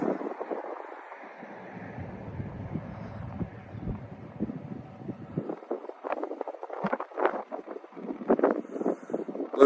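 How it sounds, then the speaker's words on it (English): Steady wind blows across an open outdoor spot at around 10 to 12 miles an hour, a broad low rush with gusty buffeting against the microphone that grows choppier and more uneven toward the end. "A little bit windy today, probably 10, 12 miles an hour."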